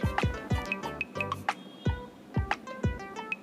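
Cold water poured over cooked semiya (vermicelli) in a kitchen, heard as a series of close, wet drips and splashes with uneven rhythm as the noodles are rinsed.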